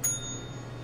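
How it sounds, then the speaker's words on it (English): A service bell on a specialty shop counter in the International District gives a single bright ding that rings on and slowly fades over a low room hum. "It says ring bell for service."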